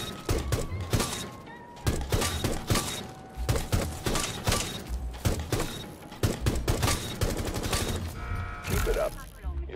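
Rapid bursts of L8 rifle fire in Rainbow Six Siege, loud repeated automatic volleys separated by short pauses, with clattering mechanical game effects.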